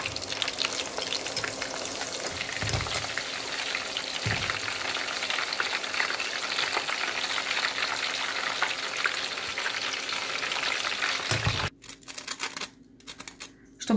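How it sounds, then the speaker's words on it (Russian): Hot peppers frying in a pan, a steady close sizzle with faint stirring clicks running for about twelve seconds before cutting off into quieter, sparse crackles near the end. "Острый перец обжариваем в течение 30 секунд."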